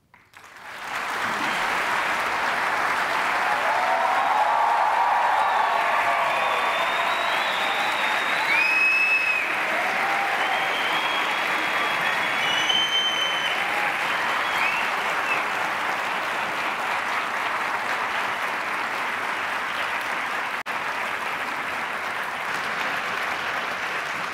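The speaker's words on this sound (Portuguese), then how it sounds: "Por favor, vamos recebê-los com aplausos." Sustained applause from a large audience greets two debaters taking the stage, a dense, even wash of clapping that holds steady and strong for over twenty seconds, with faint scattered voices.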